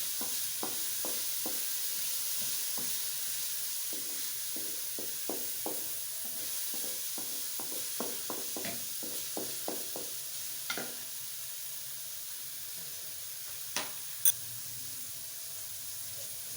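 Seasoned egg burger filling cooking in a pan, a quiet steady sizzle with a run of light rhythmic utensil taps and a few louder clinks near the end, no voices.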